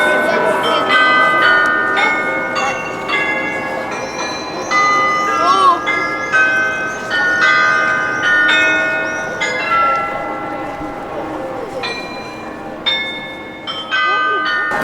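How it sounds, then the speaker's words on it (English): Church bells ring across Munich's Old Town at noon, several bells overlapping in a sustained, clanging peal at moderate distance, with a crowd murmuring and voices talking underneath. "You can hear the church bells everywhere else going off."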